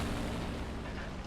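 A bomb detonates on an AMX M4 tank beside a building in War Thunder realistic battle, a dense sustained low rumbling blast that fills the whole moment with no voices.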